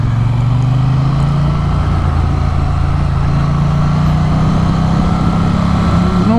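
A 2023 Triumph Bonneville T100 engine pulling in first gear, a loud, steady, close droning rumble with a low tone that rises gently as revs climb.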